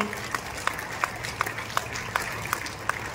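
At the opening ceremony of an anti-addiction campaign, a crowd claps in unison, a quick, evenly spaced beat of sharp hand claps over a low murmur of background noise.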